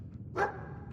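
Dogmeat, the dog in Fallout 4, lets out a single short, faint bark over a low background hum.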